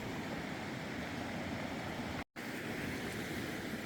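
A river flows beside a trail near a campground, a constant, broad rush of moving water, moderately close and even, with a brief silent gap partway through.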